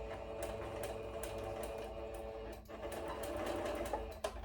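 A Baby Lock sewing machine runs steadily at close range, its motor hum and rapid needle chatter continuous for several seconds with a brief dip near the end, no voices present.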